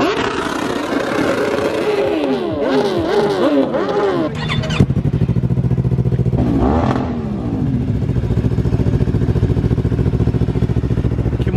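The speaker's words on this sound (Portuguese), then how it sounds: "A moto é uma R25 da Yamaha." A Yamaha R25 motorcycle engine revs up and down in quick sweeps, then settles into a steady rumbling run, loud and close.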